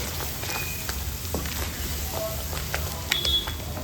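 Masala spice paste fries in a pan over low heat for cluster bean gravy, giving a soft continuous sizzle broken by small pops and light stirring clicks.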